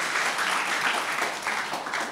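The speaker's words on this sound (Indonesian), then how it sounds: "Beri tepuk tangan yang meriah buat Tuhan." Church congregation applauding together, a steady dense wash of clapping that holds at even loudness for a couple of seconds with no talk over it.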